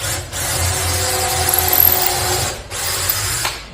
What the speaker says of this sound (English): So I'm going to drill a few holes in here